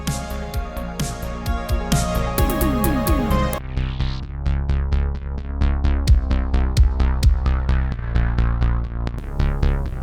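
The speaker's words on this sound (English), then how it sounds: "you have the typical sidechain compression where you're ducking the entire volume of the bass when the kick comes in" Electronic dance track where the bass ducks in volume each time the kick drum lands, a pumping sidechain-compression effect under a steady four-on-the-floor beat with synth chords.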